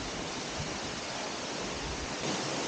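The roar of the 40 m Oara Falls, a steady broadband rush of falling water, dense and unbroken, with no voices.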